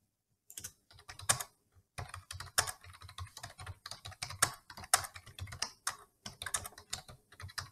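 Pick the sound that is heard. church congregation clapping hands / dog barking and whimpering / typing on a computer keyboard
typing on a computer keyboard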